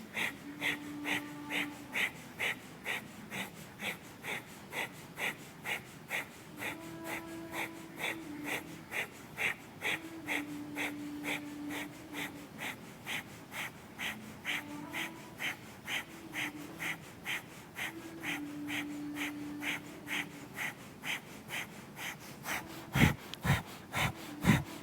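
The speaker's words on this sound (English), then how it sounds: "Now begin the breath of fire again. Quick inhales and exhales," Rapid forceful nasal breathing in kundalini kriya breath of fire, quick rhythmic inhales and exhales pumping steadily and close, with faint background music and soft vocal tones underneath.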